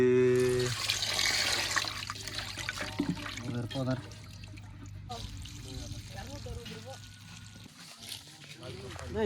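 Water pours from a tap over raw chicken wings being washed in a sink, a steady running splash under loud, overlapping talk from several boys.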